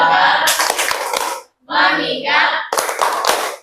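A school class in Indonesia chants the rhythmic 'tepuk fokus' routine, with bursts of group voices and sharp in-time hand claps, pausing briefly partway through.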